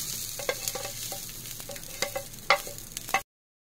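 Mung beans for balatung are stirred in a pan: irregular spatula scrapes and clicks over a soft sizzle, a few sharper knocks near the end before the sound cuts off abruptly.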